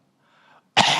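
A voice imitates a harsh, rasping cough: a faint throaty lead-in, then one loud, explosive burst cut short at the end.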